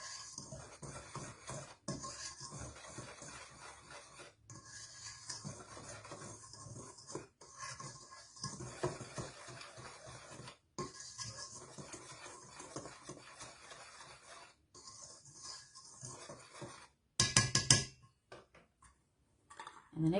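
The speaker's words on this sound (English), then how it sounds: "go ahead and whisk all of these ingredients together until they are all well incorporated" Dry ingredients for vegan biscuits being whisked in a bowl: a close, fairly soft, continuous scratchy scraping with a quick, steady rhythm, pausing a few times and ending in a brief louder burst.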